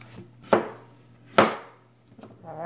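Sharp knife chops through peeled yam on a firm cutting board for Ghanaian yam porridge, two distinct loud chops about a second apart with softer knife scrapes after, close and with no talking.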